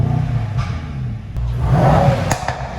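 A 2021 Mercedes-AMG E63 sedan's engine starts and revs, a deep close rumble swelling into a throaty rev before settling, with a few clattering mechanical clicks.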